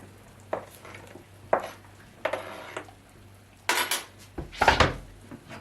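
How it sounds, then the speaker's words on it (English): Vegetables for a chicken vegetable Swiss soup go into a pot in several separate bursts, each a loud clatter of pot and spoon, with short quiet pauses between them. "going to put now all the vegetables inside the pot."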